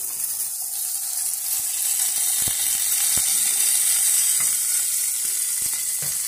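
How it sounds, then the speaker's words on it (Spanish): Meat sealing in a frying pan with a touch of oil at high temperature, giving a steady, close hiss and sizzle throughout with a few faint clicks and scrapes, and no talk. "lo colocamos en una sartén. En un toque de aceite a alta temperatura, donde lo vamos a sellar"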